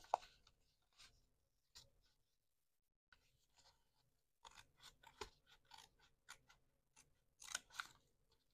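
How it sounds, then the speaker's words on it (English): A sheet of paper is cut with a paper cutter while making a lace window notepad, giving soft, crisp rasping strokes in scattered bursts with quiet gaps between, fairly faint and close. "I'm gonna cut this so that it goes all the way through."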